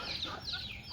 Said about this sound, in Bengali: দেখুন কীরকম ডাকতেছে মোরগ,